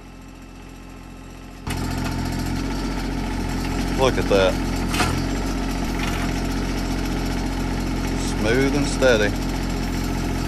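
A tractor engine kicks on and runs steadily at idle as it is driven out of a tight space near a root cellar, with someone talking over the motor.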